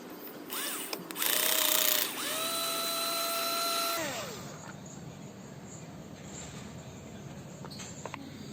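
Small tool work on a Honda Activa scooter's pivot arm cover as its single screw is backed out anti-clockwise, with a loud whirring, squealing burst early on that settles into a steady whine, then quieter scraping and clicks.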